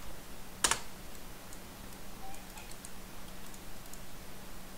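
A computer keyboard gets a quick burst of typing, one sharp clustered clatter followed by a few faint scattered key taps over a low hum, close and quiet.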